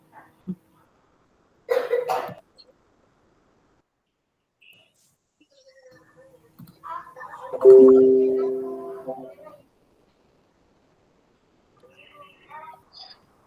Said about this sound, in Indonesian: Maaf saya batuk dari tadi malam.